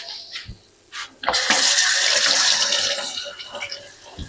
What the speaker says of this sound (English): get my knife washed off